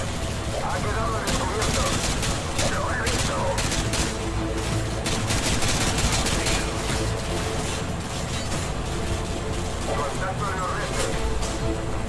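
Rapid automatic gunfire and scattered shots in the video game Call of Duty Modern Warfare 2, continuous bursts of cracking fire with game effects layered throughout, a player talking over it.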